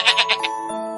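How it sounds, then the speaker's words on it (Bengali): A young goat kid gives four quick, close bleats in a row, then stops over a faint background hum. "ছয়ে ছাগল ছানা। ছাগল ছানা দাঁড়িয়ে আছে।"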